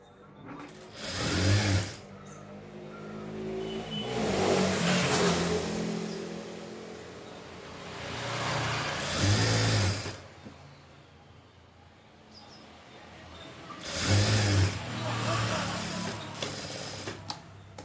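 A sewing machine stitches the folded hem of a pair of shorts in four separate whirring runs that rise and fall, with a quiet voice speaking between them.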